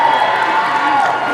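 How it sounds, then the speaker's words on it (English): An audience at a San Diego Comic-Con 2013 Veronica Mars panel cheers in a brief, loud burst of massed voices with whoops and some clapping, filling the large hall. "Please cheer if you got into Veronica Mars after we were canceled."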